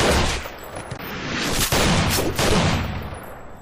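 Film-style gunfight sound effects from the sci-fi movie Alien Origin: a dense, continuous clatter of gunfire with overlapping bursts and a few sharper shot peaks, loud throughout with no talk.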